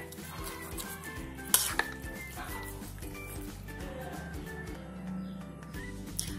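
Beef stir-fried in a pan for a simple Indonesian dish, with a metal utensil repeatedly scraping and clanking against the pan in a steady rhythm over a low background hiss, and a couple of sharper knocks along the way.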